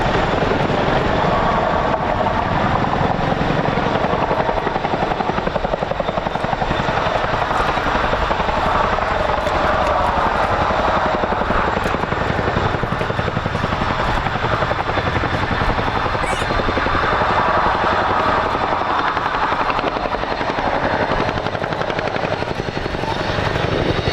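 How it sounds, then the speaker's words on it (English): A Boeing CH-47F Chinook helicopter flies at an air show at IWM Duxford, its loud, steady rotor thrum and turbine roar filling the whole stretch without pause. "aircraft now returns to drop off the underslung load and complete what is called an operational drop-off"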